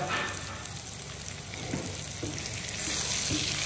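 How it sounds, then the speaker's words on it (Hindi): Chicken brown fries loudly in a pan as sliced tomatoes go in. Steady close sizzling with occasional stirring clinks, and no talk. "आखिर पे मैं इसमें डालूंगा जो मैंने टमाटर स्लाइस करके डाल रखे थे, ये इसमें ऐड करूंगा।"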